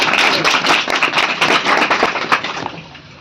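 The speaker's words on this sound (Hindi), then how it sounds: "इस बात पे आप लोग थोड़ा ताली बजा दो यार" A seminar audience in Garhwa, Jharkhand, breaks into loud, dense clapping, many hands at once, steady and close before tapering off toward the end.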